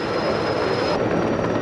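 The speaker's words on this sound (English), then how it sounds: "You probably already know that helicopters can lift straight off the ground." A helicopter lifts off with a loud, continuous rotor and turbine roar that stays close and steady.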